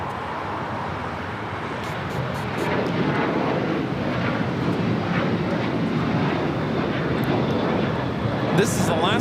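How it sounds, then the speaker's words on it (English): An Alaska Airlines Boeing 737-800 taking off from LAX bound for Portland, its engine roar building and holding loud throughout, with a voice talking over it. "This is Alaska Airlines 1127 taking off to Portland on a 737-800."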